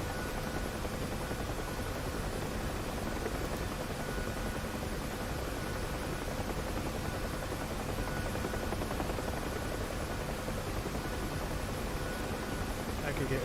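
A UH-1 Huey helicopter in the DCS flight simulator drones with a steady, even rotor and turbine hum that holds constant throughout, moderately quiet and with no other sounds over it.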